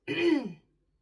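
A single short, close throat clearing, a rough guttural rasp lasting about half a second, followed by silence.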